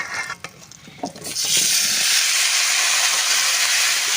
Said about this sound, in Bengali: ওই তেলের ভেতরেই পেঁপে আর আলুটা ভেজে নেব।